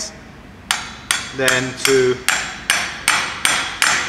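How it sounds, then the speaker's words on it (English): Hammer strikes seating an AC compressor clutch bearing, about eight sharp metallic blows at a steady pace, close and loud with ringing decay, with a brief voice partway through. "we're gonna just start it with this, with the hammer method"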